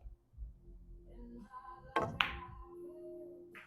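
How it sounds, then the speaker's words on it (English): In a pool stop shot, the cue ball strikes the object ball with one sharp close click, a soft thud comes just before it, and a faint rattle follows in a quiet room. "I'll just play a stop shot on the one. Maybe a little drag shot."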